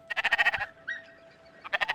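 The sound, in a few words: sheep bleating in the video game Spiritfarer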